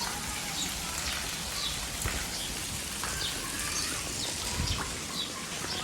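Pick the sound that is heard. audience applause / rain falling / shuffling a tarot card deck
rain falling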